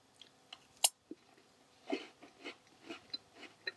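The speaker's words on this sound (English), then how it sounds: "Kind of a velvety, crunchy chocolate biscuit." Crunchy Penguin chocolate biscuit being chewed close up, a sharp first bite followed by a run of irregular crisp crunches and softer mastication sounds, with no talking.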